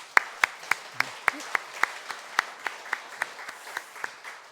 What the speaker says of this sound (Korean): 우리 좀 박수로 환영해 주시기 바랍니다